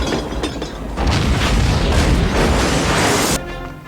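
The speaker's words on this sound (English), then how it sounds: "An explosion." Movie explosion from The Wild Wild West (1999): a loud, booming blast with a rumbling, crackling body lasting a couple of seconds before dropping off abruptly.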